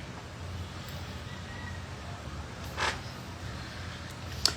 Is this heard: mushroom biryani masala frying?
no